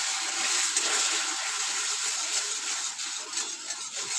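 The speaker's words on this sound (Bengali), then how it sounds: "আর এখানে একটু অল্প জল আমি দিয়ে দিলাম।" A small amount of water is poured into hot cooked caramel in a pan with the gas turned off for Mohan bhog sweets, giving a continuous hissing, gushing rush that stays close and fairly loud throughout.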